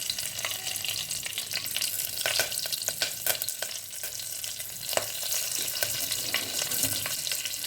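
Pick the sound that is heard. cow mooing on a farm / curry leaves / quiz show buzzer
curry leaves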